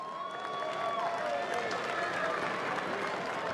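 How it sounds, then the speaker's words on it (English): Crowd applause after the Meads Cup rugby final between Wanganui and Buller, a soft, distant spread of clapping and murmur with a few whistled tones drifting over it. "So give yourselves a round of applause."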